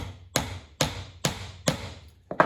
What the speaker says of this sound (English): I'm barely hammering